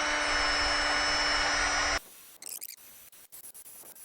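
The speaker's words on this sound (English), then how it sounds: "I'm going to clean all my fasteners up with wire wheel" A spinning wire wheel scours strut fasteners from a 2007-2012 Hyundai Santa Fe, giving a loud, steady whirring buzz for about two seconds before cutting off, followed by a few faint clicks and taps.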